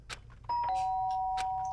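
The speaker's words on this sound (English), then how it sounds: "the sound of the doorbell forced its way into my room." A doorbell in the Danganronpa: Trigger Happy Havoc video game sounds a clear two-tone electronic chime, the second tone held and ringing on, over faint background sounds.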